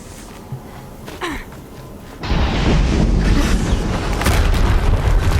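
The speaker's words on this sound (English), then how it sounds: "Another explosion." Explosion in the video game Horizon Zero Dawn: a few small pops, then a heavy, sustained roaring boom that fills the rest of the scene loudly.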